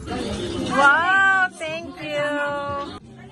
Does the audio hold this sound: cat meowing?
yes